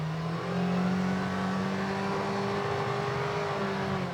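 A Can-Am Defender MAX side-by-side in low range and work mode accelerates under a steady throttle, its engine holding a smooth, sustained drone with a faint whine, heard alone and fairly close.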